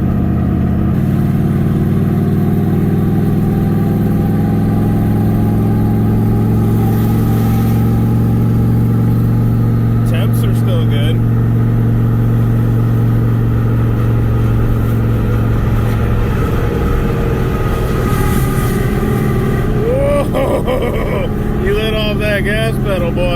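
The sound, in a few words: truck engine revving with 10-bolt rear end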